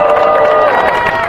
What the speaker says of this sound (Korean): 축하에 큰 박수 부탁드립니다